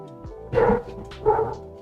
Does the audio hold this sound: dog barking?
yes